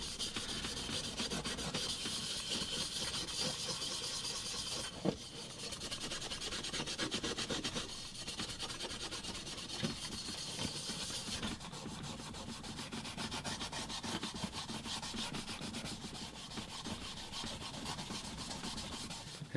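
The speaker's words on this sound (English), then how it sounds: "I think we should just hit it with some Scotch-Brite and see how it's gonna look." Steady abrasive rubbing of a Scotch-Brite pad scrubbing the body of a 1:18 scale 1973 Trans-Am model car, continuous and close with brief pauses and shifts in stroke, no talking.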